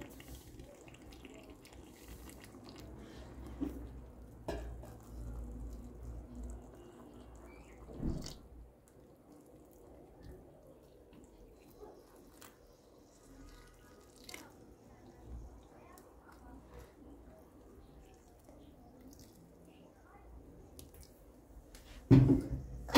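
Boiling water poured from above into jars of preserves in a kitchen, a soft steady trickle and splash running low under the room's hum, with a few clinks and a louder knock near the end.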